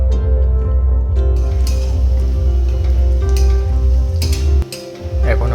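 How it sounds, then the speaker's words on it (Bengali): Onion frying in oil in a pan while a soybean dish is cooked, with a steady, loud sizzle throughout and a brief dip near the end. "পেঁয়াজটাকে আমরা একটু ভালো করে ভেজে নেব"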